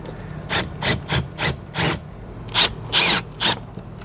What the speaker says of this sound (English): I'm gonna also reinsert those screws that were in our previous one.